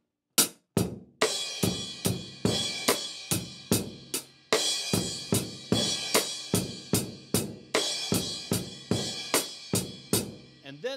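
A drum kit plays a steady pattern of snare, floor tom and crash cymbal, with loud, evenly spaced hits ringing out close and alone.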